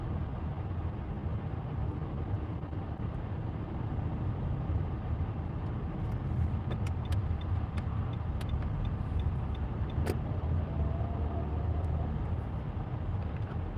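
A car driving on a delivery run, a continuous loud road and engine roar heard from inside the cabin with a few faint ticking clicks partway through and no talking.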